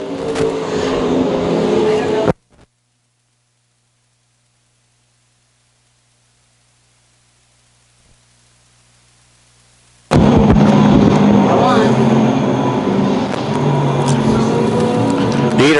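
Race cars roaring around the Lakeside Speedway oval: a loud, continuous engine roar for a couple of seconds, then a long near-silent gap, then the dense roar returns at full volume to the end.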